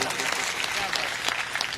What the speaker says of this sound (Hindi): एक बार इसके लिए जोरदार तालियां बजा दीजिए